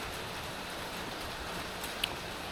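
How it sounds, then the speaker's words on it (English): Steady rain falls in a park, an even hiss of drops on surfaces with one brief tap standing out, no voices. "Oh, this rain keeps getting pushed back further and further."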